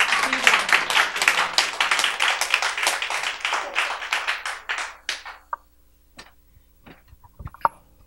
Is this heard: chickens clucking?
no